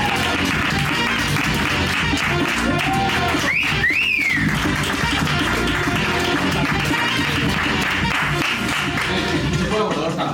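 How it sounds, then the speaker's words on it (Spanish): An audience applauds to welcome Xavi Rodríguez on stage, a sustained wash of clapping with a couple of whistles rising midway, steady and fairly distant. "recibamos con un fortísimo aplauso a Xavi Rodríguez"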